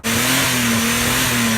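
Car engine revved hard and held at high RPM, a loud, sustained droning roar close by with no talking.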